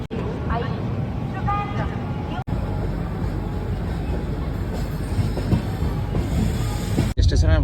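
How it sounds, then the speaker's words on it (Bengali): A passenger train pulling out of Vijayawada station, a steady loud low rumble of rolling wagons filling the whole stretch, with brief dropouts and a voice faintly audible over it. "আমাদের ট্রেন এখন বিজয়বাড়া থেকে ছেড়ে বেরিয়ে যাচ্ছে দেখতেই পাচ্ছ"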